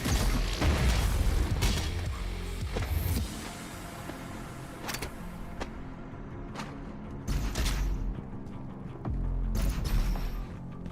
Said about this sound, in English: have a grenade in the brain